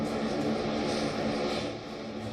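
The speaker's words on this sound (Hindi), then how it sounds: "दिल्ली एयरपोर्ट पर इटली से आया विमान पहुंचा" An airplane arriving from Italy at Delhi airport, carrying an oxygen generating plant, gives a steady, dense engine roar that holds constant throughout, with no talking.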